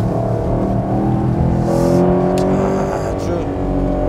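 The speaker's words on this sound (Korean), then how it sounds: "폭발적인 엔진 사운드 즐기면서 이런 서킷 주행 아주 재미있는데요" A Chevrolet Camaro SS with a 6.2-liter engine roars loudly on a cold race circuit, revving and accelerating hard close up while someone talks over it.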